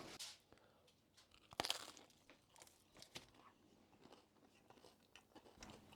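Crunchy, slightly burnt homemade two-dollar pizza is bitten and chewed up close, with a sharp crackling bite followed by quieter irregular crunches.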